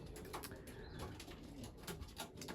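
Racing pigeon number 611 coos inside its loft, soft and fairly faint, with repeated low calls over a steady rustling background and no voices.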